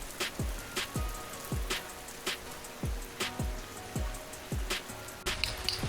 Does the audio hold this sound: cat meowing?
no